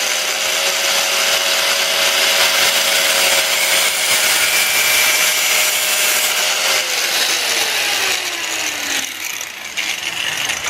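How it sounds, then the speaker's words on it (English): A grinder cuts into a shiny metal gauntlet finger part clamped in a vise, a loud continuous abrasive roar with a whining tone that dips lower as the blade bites harder, close and unbroken throughout. "I'm going to now just take the grinder."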